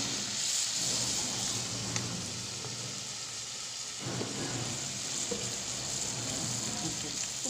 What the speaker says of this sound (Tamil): இப்போ தக்காளி சேர்த்துட்டு உப்பு போட்டு வதக்கி எடுத்துறலாம்